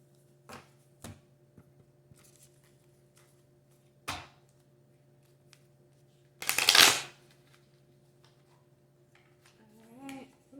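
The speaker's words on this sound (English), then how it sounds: "That was a terrible shuffle." A deck of cards is shuffled in one loud riffling burst, preceded by a few soft taps and clicks, with a faint voice at the very end.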